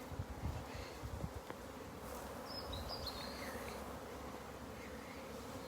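Honey bees from several large hive colonies buzz in a dense, steady outdoor drone at moderate distance, with a few nearer bees passing by and occasional small knocks, and no talking.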